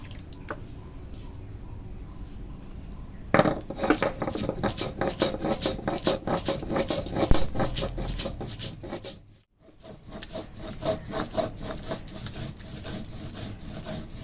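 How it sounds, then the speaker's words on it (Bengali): Ginger, cumin, black pepper, fennel, radhuni and coriander are ground on a stone grinding slab, a continuous close rasping and rubbing that begins after a quiet start and briefly stops near the end. "তাহলে কি কি বাটলাম আদা জিরে তারপরে গোলমরিচ মৌরি রাঁধুনি"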